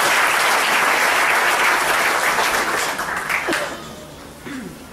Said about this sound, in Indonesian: Mari kita beri tepuk tangan untuk Tuhan.